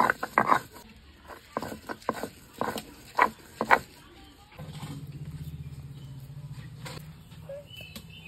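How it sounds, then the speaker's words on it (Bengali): Fried bottle gourd greens are ground by hand on a flat grinding stone, giving a run of sharp, uneven scraping knocks close by. A steady low hum takes over in the second half. "এখন এটা এই যে শিলপুজোতে বেটে নেব আমি"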